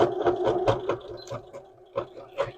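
A push-to-start sewing machine stitches a mend in the crotch of a pair of jeans, giving soft, close, uneven bursts of rhythmic mechanical clatter with brief pauses between them.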